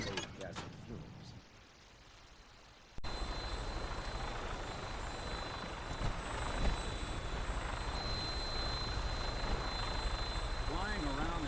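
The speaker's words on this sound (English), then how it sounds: "Flying around in a 200-year-old aircraft?" An old aircraft flies in the Fallout 4 video game, a steady loud engine drone with a high whine that begins abruptly after a few quieter seconds and holds to the end.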